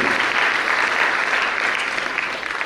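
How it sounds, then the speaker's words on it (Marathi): Steady, loud applause from a crowd at the Shivgad Adhyatma Charitable Trust's 11th anniversary function, a continuous wash of clapping held throughout without a break. "आपण एकदा जोरदार टाळ्या वाजवूया"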